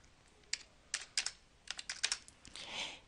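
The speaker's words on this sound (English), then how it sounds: "and I can type in my amount" An amount is typed on a computer keyboard into a money application, heard as a faint, close series of irregular key clicks and taps with no talk, ending in a softer brushing sound.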